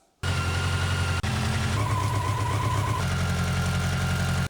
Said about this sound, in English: So booted the bike up, let the bike run outside.